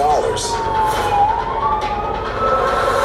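An emergency vehicle siren wails with rising and falling tones, loud and steady throughout, over a background of traffic noise.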